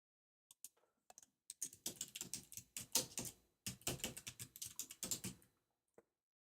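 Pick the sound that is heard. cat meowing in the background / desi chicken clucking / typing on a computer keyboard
typing on a computer keyboard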